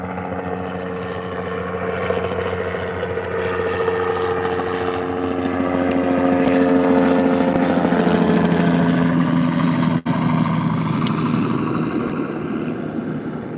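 A helicopter's rotor thumps and engine drone build as it approaches over a ranch, growing loudest overhead, then ease off slightly, with a brief click partway through.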